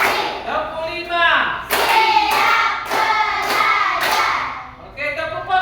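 Schoolchildren in a class clap together in a counted rhythmic pattern, five loud, evenly spaced bursts of group hand claps mixed with children's chanting voices, close and energetic.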